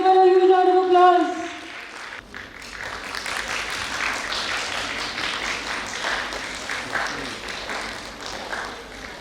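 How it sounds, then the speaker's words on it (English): An indoor crowd at a college fest applauds loudly for several seconds after a musical tone fades. The dense clapping stays steady with scattered cheers mixed in. "give her a huge round of applause"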